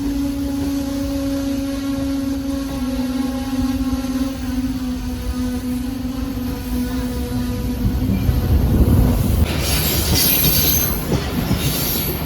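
Awam Express train running through Bin Qasim as it crosses the Pakistan Express, a steady loud rolling rumble with sustained wheel squeal tones, building into louder rattling and hiss near the end.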